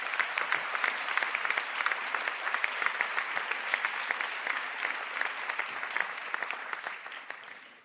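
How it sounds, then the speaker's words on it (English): An audience at a Sligo and St Angela's conferring ceremony applauds graduating students. It is a steady, crisp round of many hands clapping at an even, moderate level that tapers off in the final second. "I would ask for a round of applause for those students"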